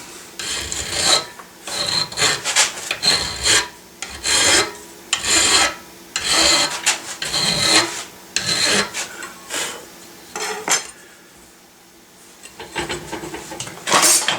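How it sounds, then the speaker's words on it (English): A hand file rasps back and forth to smooth and chamfer a metal edge while installing a drum in gunsmithing work, steady close strokes in a regular rhythm, alone with no talk. "I want to smooth that up a little bit and chamfer the edge again"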